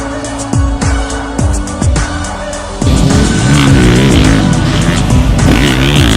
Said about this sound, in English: I just got done riding the 2017 Honda 450